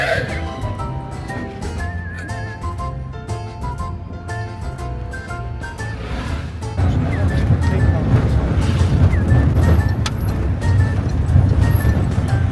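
A taxi ride through the streets of Naples: a voice is heard at first over light traffic. Midway the engine and road rumble swell into a loud, steady drone inside the moving car, with faint horn-like tones.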